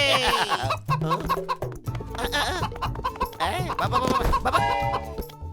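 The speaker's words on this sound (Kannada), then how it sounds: "ಏನೋ ಮೋಟಲು, ಒಂದು ಕೋಳಿ ಹಿಡಿಯಕ್ಕಾಗ್ಲಿಲ್ವಲ್ಲ ನಿನ್ ಕೈಲಿ." A cartoon chicken clucks repeatedly in a Motu Patlu episode, layered over busy background music and animated character sounds throughout.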